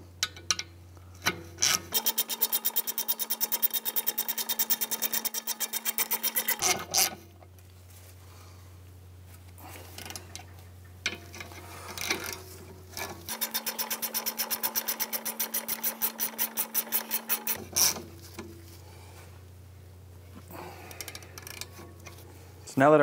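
Two bursts of fast ratcheting from a 14 mm socket tightening bolts on a 2007-2013 Mitsubishi Outlander wheel hub, rapid rhythmic clicking close by, with a pause between runs.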